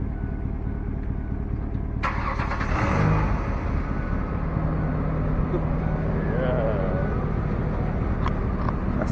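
A stock Chevrolet Silverado Z71 truck engine with its muffler still on cranks and catches around two seconds in, then runs with a steady, loud rumble alongside some background chatter.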